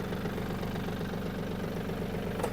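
A Yanmar F-210 Japanese mini tractor engine idles close by, a steady rapid chugging throb with even knocking pulses throughout, no talking.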